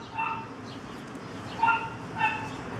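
A mother dog gives three short, high yipping barks, spaced apart and somewhat distant over faint background noise.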